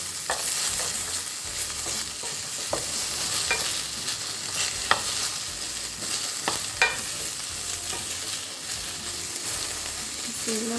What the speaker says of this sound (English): So you want to stir fry that for about 2 minutes.